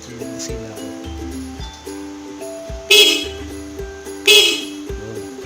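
A motorcycle horn, newly wired together with a passing light, gives two short, loud honks a little over a second apart. Steady tonal background sound runs underneath.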